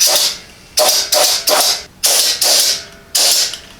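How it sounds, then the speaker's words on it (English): Seven short bursts of a spray gun hissing Fluid Film rust proofing, close and loud, each burst a second or less with brief pauses between. "I'm just going to spray a little out of the gun on the back"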